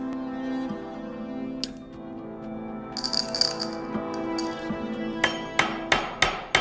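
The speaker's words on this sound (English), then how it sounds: "So I've flattened the overlapping ends of the ring, and I've pierced a hole through it." Close metallic hammer blows flattening the overlapping ends of a riveted mail ring, a few scattered taps followed by a quicker run of sharp strikes over a ringing, rattling background.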